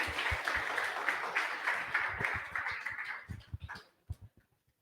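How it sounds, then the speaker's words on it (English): A small crowd at a tech meetup claps moderately and unevenly, the applause thinning out into a few scattered, distinct claps before stopping. "Round of applause, everyone."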